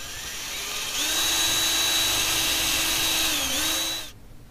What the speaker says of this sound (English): Both holes have been drilled.